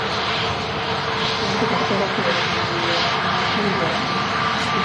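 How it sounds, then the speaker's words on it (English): A Pegasus airliner taxis off the active runway at Manchester Airport, its engines producing a steady, continuous roar heard from nearby outdoors with people talking over it. "Pegasus taxiing off the active runway in front of us."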